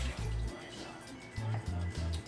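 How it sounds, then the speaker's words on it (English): Water pours into a glass to rinse it out while cooking vegan cabbage rolls, a soft liquid trickle with gurgling spurts starting and stopping, quiet and close. "so I'm gonna use some water to rinse out the glass."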